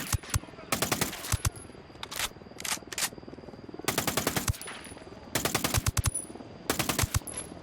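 Automatic rifle fire in SO4 weapons testing, sharp, close bursts repeated in short strings with brief pauses, and a high electronic tone now and then.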